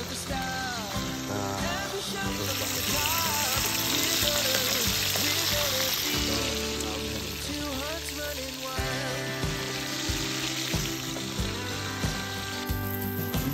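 Tilapia fish frying in oil, a steady loud sizzle running the whole way under layered background music, with occasional crackles and stirring.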